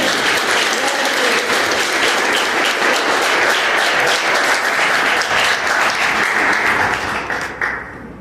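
A church congregation applauding during a service, a broad, continuous wash of many hands clapping that holds steady and then tapers off at the end.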